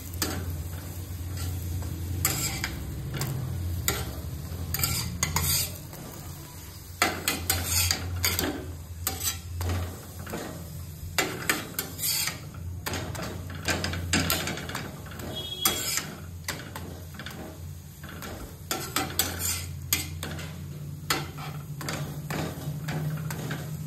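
Parathas fry one at a time in oil in a pan, giving a steady sizzle with scraping and clinking of a utensil against the pan, close and continuous over a low background hum.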